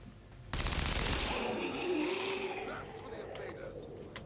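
Dense gunfire in the video game XCOM 2 bursts in suddenly and rolls on as a loud, sustained fusillade, with a voice talking over the shots.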